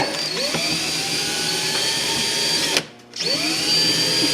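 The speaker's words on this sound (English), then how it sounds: "Now use drywall screws." Power drill running steadily as it drives drywall screws into a wooden transplant tray, loud and close, with one brief pause before the motor whines back up.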